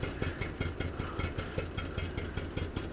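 A 1969 Datsun 521 engine idles unevenly after a cold start, burning oil, with a steady low rumble punctuated by regular soft knocking pulses, close and moderately loud with no talking.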